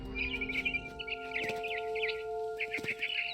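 In the video game What Remains of Edith Finch, a scared barn swallow gives a string of short, quick chirps in small bursts, heard faintly over a steady low hum of background game music.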